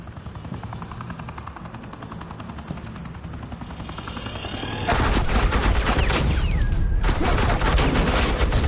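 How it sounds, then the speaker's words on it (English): Video game gunfire in Batman Telltale, a sustained rapid burst of suppressing fire that starts abruptly midway and stays loud to the end, following a steadier droning rumble. "This is Agent Quinn, suppressing fire"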